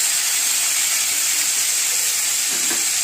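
Tomatoes sautéing in a pan for brinjal rice, giving a steady, close broadband sizzle and hiss that runs unbroken throughout with no talk.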